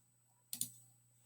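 A double computer mouse click while opening a phonics lesson on a school website, two quick close clicks in a row against faint background hum.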